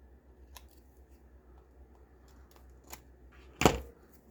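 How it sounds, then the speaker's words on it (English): Scissors trimming excess paper off a specimen-slide flip-out in a paper craft folio, a few faint snips followed by one sharper, louder cut near the end, close up in a quiet room without talking. "let's cut the excess off of this one."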